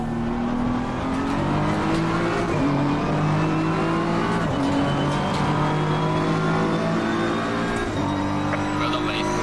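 Racing car braking and downshifting into a final corner in a sim racing game with load-cell pedals: engine note drops in several stepped blips between bursts of acceleration, with a voice talking over it.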